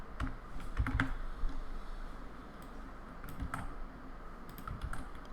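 Fingers type on a computer keyboard in a quiet room, a soft, irregular patter of key clicks with a few sharper taps, close up and faint.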